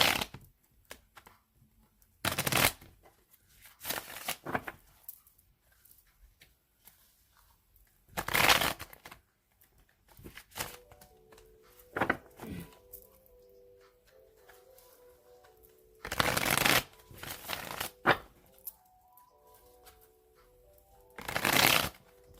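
Tarot cards shuffled by hand in several bursts, each a crisp rapid riffle or slide, loud and close, separated by quieter handling and light clicks.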